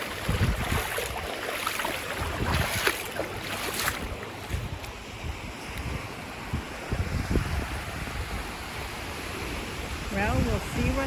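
A strong stream rushes past in a continuous, loud wash of churning water that never lets up, heard up close outdoors with occasional gusty noise.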